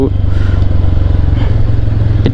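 A Bajaj Pulsar N160 motorcycle being ridden on a test run, its engine a loud, steady close-up thrum with constant low rumble and mild rattling throughout.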